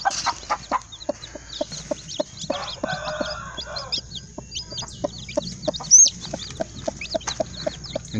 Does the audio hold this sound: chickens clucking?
yes